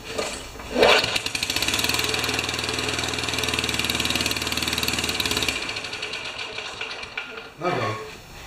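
An older, hard-starting Craftsman edger with a partly clogged carburetor sputters into life. Its small engine runs with a loud, rapid, even chug for several seconds, then dies away, and a person talks over parts of it.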